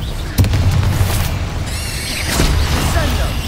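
A Confringo fire spell explodes in Hogwarts Legacy, a sharp booming burst followed by crackling fiery rumble and a second swelling blast, loud and close with continuous game effects around it.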